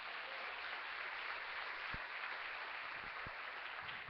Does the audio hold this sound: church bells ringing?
no